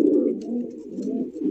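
An Indian Bombay pigeon coos nearby in a low, throaty, continuous rolling call that lasts under two seconds, with no talking.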